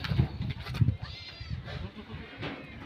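A goat, a nanny that has accepted a kid, bleats faintly in a few short calls amid low farmyard background noise.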